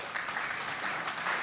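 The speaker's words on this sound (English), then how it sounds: "I think they deserve a round of applause." Audience applause at a Nigerian leadership prize award ceremony, a dense, fairly faint burst of many people clapping, brief and continuous without speech.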